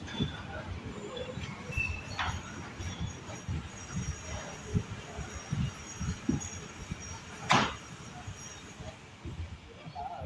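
A sleeper class passenger train running between Hosur and Tiruchendur, with a steady low rumble of wheels and carriage and a few sharp clanks and rattles, one louder jolt standing out, while faint voices murmur in the background.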